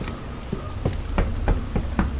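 Rain falling in the horror game Fears to Fathom, a steady close patter with sharp individual drops striking a surface at irregular intervals, heard alone without voices.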